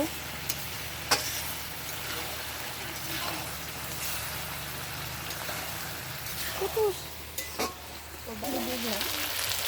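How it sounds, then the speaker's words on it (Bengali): Chicken meat sautéed (kosha) in a pan sizzles in a continuous low hiss, broken by a few sharp clinks and scrapes of stirring, with a faint voice briefly near the end. "এই তো এইভাবে হালকা আছে মাংসটা কষিয়ে নিব"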